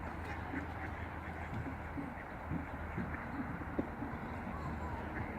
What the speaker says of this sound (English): I don't think I've ever seen this many ducks in one spot.